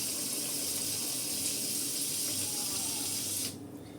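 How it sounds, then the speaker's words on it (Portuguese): A steady stream of water runs into a small cooking pot for several seconds, then cuts off abruptly, leaving a quieter room. "É um pouquinho só de água, gente, só para não grudar realmente aqui, né, no fundo da panela"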